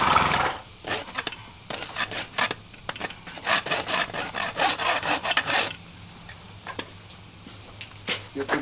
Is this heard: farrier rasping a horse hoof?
yes